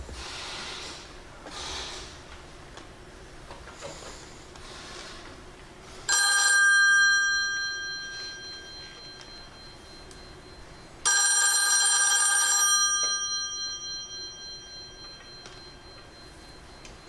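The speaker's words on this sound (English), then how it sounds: "I will now dial the pink phone." A pink telephone on a party line rings after being dialed: two bursts of bright electronic trilling, each about two seconds long, separated by a quiet gap over a low steady hum.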